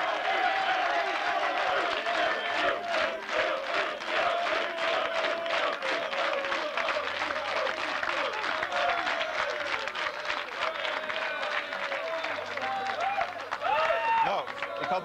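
Crowd on a terrace at a Tour de France evening event in Alpe d'Huez breaks into sustained, dense applause, loud and continuous for the whole stretch with some murmuring mixed in.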